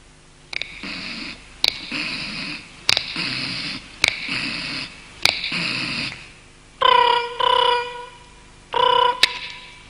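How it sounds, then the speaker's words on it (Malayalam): A telephone rings repeatedly in short bursts, each ring preceded by a sharp click, with a few brighter, different-toned rings near the end. "ഇതാ ഒരു ബാറുടമയുടെ വീട്ടിലേക്ക് ഒരു ഫോൺ കോൾ"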